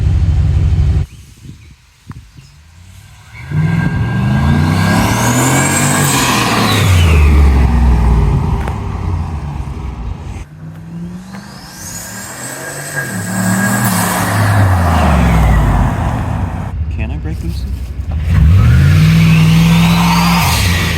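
Turbocharged Chevrolet Suburban engine revving hard in a parking lot, several loud rising-and-falling blips with a strong low rumble and turbo whine on top, close and continuous.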